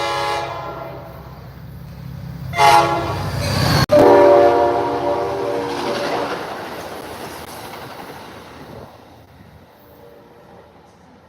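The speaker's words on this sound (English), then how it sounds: "We got another train coming in here." A New Jersey Transit train arriving at a station, sounding its horn in a loud sustained blast, followed by a rumbling roll of cars that gradually fades away.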